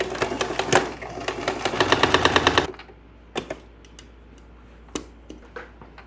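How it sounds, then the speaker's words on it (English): A sewing machine stitches darts on a skirt in a fast, loud mechanical run for about two and a half seconds, then falls to quieter clicks and intermittent light taps. "I'm just going to sew the darts"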